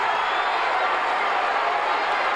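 A wrestling crowd in a Houston arena cheering on Terry Taylor, a dense, steady roar of many voices with no breaks, loud and continuous throughout.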